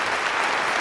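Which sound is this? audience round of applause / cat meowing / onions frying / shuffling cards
audience round of applause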